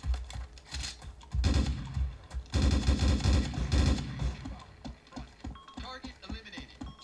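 Rapid machine gun bursts in the military video game Arma 2, loud clattering volleys repeating in clusters, with a voice speaking briefly.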